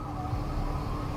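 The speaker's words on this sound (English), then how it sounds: "Or at least I thought I heard sirens." A siren wails faintly and steadily inside the Life is Strange video game, a thin, wavering tone held low behind a constant rumble of background noise.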